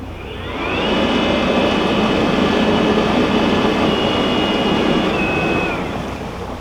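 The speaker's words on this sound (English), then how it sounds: "The motor started, believe it or not." Narrowboat motor running on the Grand Union Canal, a steady droning hum with a faint whine that swells in after half a second, holds evenly near and loud, then eases slightly at the end.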